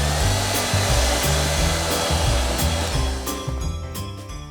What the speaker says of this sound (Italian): velocemente asciugo col phon